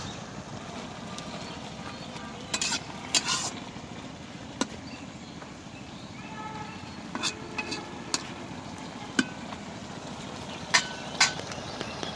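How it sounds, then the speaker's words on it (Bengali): Food is stirred in a pan in a home kitchen, a soft low sizzle under occasional sharp scrapes and clinks of the utensil against the pan, scattered across the stretch. "নাড়া দিয়ে মিলাই দিই"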